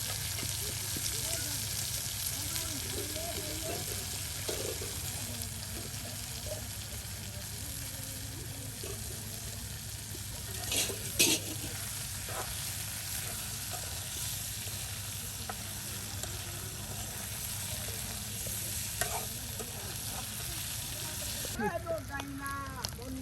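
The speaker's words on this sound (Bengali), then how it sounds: "শুটকিগুলো একদম সুন্দর করে আর সেই পেঁয়াজ রসুনের সাথে ভেজে নেওয়া হচ্ছে।" Dried fish frying in a pan with onion and garlic, a steady broadband sizzle running throughout with a few brief clinks and scraping stirs, and faint voices talking now and then under the frying.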